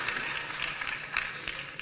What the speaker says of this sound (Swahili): Wapigieni makofi, wapigieni makofi.